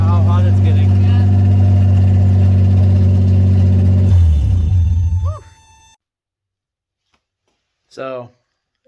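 A 1988 first-generation Toyota 4Runner with a swapped-in 3.4 junkyard engine idles with a steady, loud, low hum, then shuts off and winds down to silence, with people talking over it and briefly afterward.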